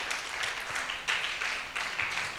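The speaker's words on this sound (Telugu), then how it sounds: "ఉన్న వాళ్ళందరూ ఒకసారి చప్పట్లు కొట్టి దేవుని మహిమపరుస్తారు" A church congregation claps together in praise of God, a steady wash of applause with rhythmic surges, moderately distant and filling the whole moment.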